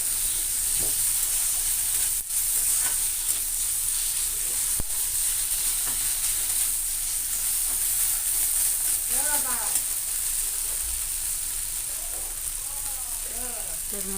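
Cumin and ginger paste sizzling in a pan for a paneer and kasuri methi dish, a steady loud frying hiss throughout with occasional scraping stirs and soft knocks, close up, and a voice talking at times.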